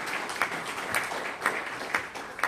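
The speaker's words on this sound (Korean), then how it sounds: "박수 한번 부탁드리겠습니다." Audience applause at a church federation briefing on the WEA, a steady wash of clapping with regular louder accents rising out of the crowd noise.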